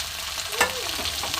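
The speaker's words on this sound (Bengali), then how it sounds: "এবার আমি এর সঙ্গে একটুখানি হালকা করে ভেজে নেব" Green peas being stirred and fried with onions in a wok, giving a soft continuous sizzle with one brief scraping stir near the middle, close and fairly quiet.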